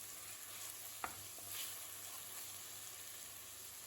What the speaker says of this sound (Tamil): தக்காளி பொடியாக நறுக்குன்னா ரெண்டு தக்காளி சேர்த்துக்கலாம் இதை நம்ம லைட்டாக வதக்கிக்கலாம்